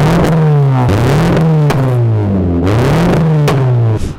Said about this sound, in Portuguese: o bagulho então deve ser berrante ali, né? Berra um pouquinho.